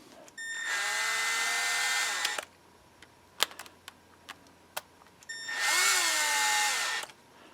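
A power drill drives screws into a Hitachi leaf blower carburetor in two whining runs of about two seconds each, with clicks and small handling knocks in between.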